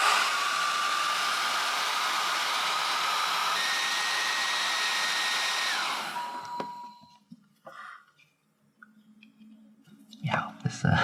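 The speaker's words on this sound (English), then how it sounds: "Shouldn't have put that in the path of the hairdryer." A hair dryer blows hot air over a Pokémon game cartridge during a ROM chip swap, a loud, steady whooshing roar that cuts off after about six seconds, followed by soft handling clicks and quiet speech.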